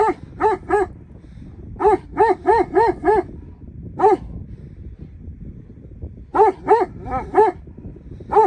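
A Kangal dog barks close and loud in bursts of two to five deep barks with short pauses between groups, over faint background noise.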